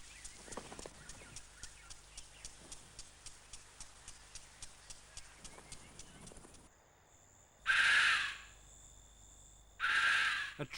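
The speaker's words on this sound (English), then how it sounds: "A tree hyrax calls at dusk." A tree hyrax calls at dusk: a steady run of rhythmic clicking calls, then two loud harsh rasping cries stand out, each lasting about a second, against quiet night ambience.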